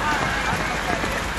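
Rain pours down over a street protest on a bridge during a national strike, a dense constant hiss of drops on pavement and surfaces, fairly loud and unbroken.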